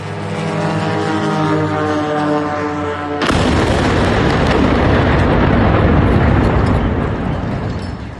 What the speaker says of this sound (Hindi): जबरदस्त धमाका हो गया। आसपास के इलाके भी हिल गए